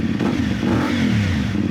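CFMOTO Ibex 450 motorcycle fitted with a Yoshimura slip-on exhaust, idling close by with a low, steady, slightly deep rumble and no voices.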